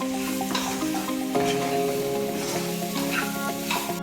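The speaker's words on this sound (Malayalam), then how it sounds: "നന്നായിട്ട് മൂത്ത പൊടിയിലേക്ക് മാങ്ങ ഇട്ട് ആവശ്യത്തിന് ഉപ്പും ചേർത്ത് നന്നായി ഇളക്കുക." Mango pieces are stirred with salt into roasted spice powder in a pan for Kerala mango mappas, with scraping spoon strokes over a light sizzle.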